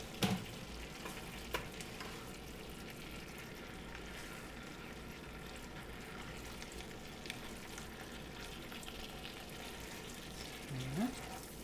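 A tofu-chicken, green bean and onion stir-fry cooking in a pan, giving a soft, steady sizzle that stays quiet and low throughout, with a brief clink of cookware now and then.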